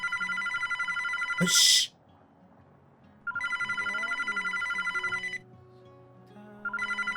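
Telephone in The Sims 2 video game ringing in repeated electronic bursts with silent gaps between them, loud and close; a person briefly shushes during the first gap.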